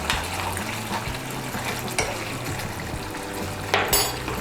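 A spoon stirs ghee and garam masala into a sizzling soybean and new potato curry in a pan, a busy continuous scraping and frying sizzle with a few sharper clinks against the pan near the end.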